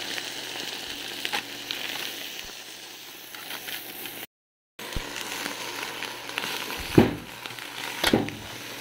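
Bringhe, a Filipino arroz caldo valenciana, fries in a pan with a steady close sizzle and crackle and a few louder scrapes of stirring near the end.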